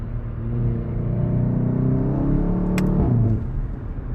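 A 2016 VW Golf GTI Clubsport's engine with dual-clutch gearbox revs up strongly in a steady rising drone, loud and close, then eases off with a brief shift near the end.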